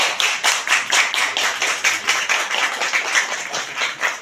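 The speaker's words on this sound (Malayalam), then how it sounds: "കൈയടി" Rhythmic hand clapping from a group at a 1999 10th-grade batch reunion gathering, fairly close and steady, continuing throughout without voices on top.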